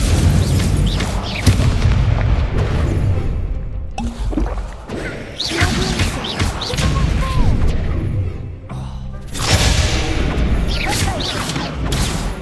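Heavy booming fire blasts from an Incendio spell in Hogwarts Legacy roar in dense waves, with brief lulls around the middle and a strong burst near the end, under occasional voices.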